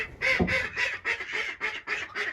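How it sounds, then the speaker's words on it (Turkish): A duck that has escaped from a torn wire coop on a village farm quacks about seven times in a row. The quacks are evenly spaced, nasal and close by, and there is no other sound. "Ördek oradan çıktı."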